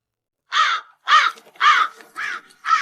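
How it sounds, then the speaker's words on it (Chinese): Crows caw five times in a steady sequence, harsh, loud and close, each call a short rasping burst with brief gaps between, with no talk over them. "哪来这么多乌鸦？"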